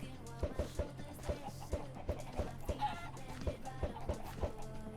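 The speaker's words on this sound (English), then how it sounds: "More chickens, please." Chickens in the Minecraft video game cluck in a quick repeating rhythm, several short clucks per second mixed with background game music, loud and close with no speech over them.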